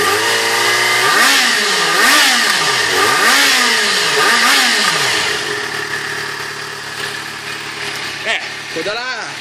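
A white 2013 Yamaha XJ6 motorcycle engine revs repeatedly from idle, each throttle blip rising and falling in pitch, loud and close, then settling to a lower idle while people talk nearby.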